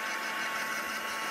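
A heat tool blows over freshly stamped craft work to dry it, giving a steady close broadband whoosh that stays constant and loud for the whole moment, no speech.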